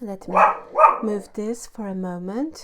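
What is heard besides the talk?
dog barking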